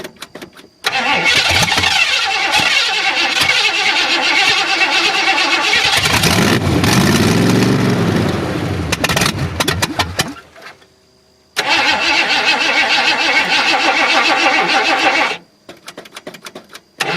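A Ford Granada engine cranks and catches, roaring loudly up close for several seconds before cutting out, then cranks and runs again briefly before dying.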